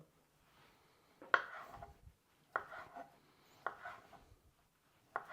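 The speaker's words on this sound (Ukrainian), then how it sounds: "Філешку буду нарізати ось такими полосочками." A knife slices cooked chicken fillet into strips on a board in four separate, evenly spaced strokes, each a short crisp slice followed by quiet, close and fairly soft.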